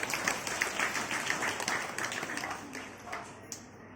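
Applause from an audience at a state conference of a social movement group in Varanasi, a crowd clapping steadily at moderate distance and tapering off toward the end.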